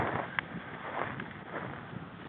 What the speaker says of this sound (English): Wind keeps swirling.